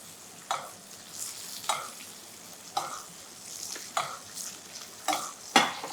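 Skate wing meunière fries in butter in a pan over medium heat, nearly cooked through. A quiet sizzle runs underneath while sharp scraping stirs and spatula knocks land irregularly, about one per second.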